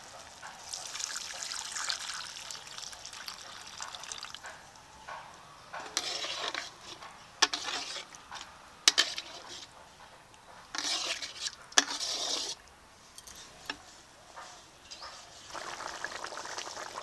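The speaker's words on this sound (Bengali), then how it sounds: "এখন অল্প করে জল দিয়ে দেব।" A little water trickles and splashes into rohu fish kalia simmering in a pan, arriving in short intermittent bursts amid light clinks of utensils and stirring.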